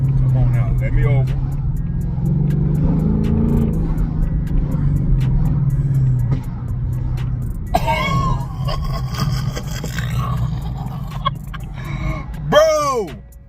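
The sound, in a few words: 2024 Ford Mustang GT S650 with new exhaust driving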